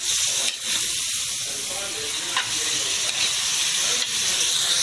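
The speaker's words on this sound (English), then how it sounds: "Just drop the ham and cook it together with the onion and garlic" Ham frying in butter with onion and garlic in a pan gives off a steady, bright, close sizzle that holds for the whole stretch, with a few faint clicks from stirring.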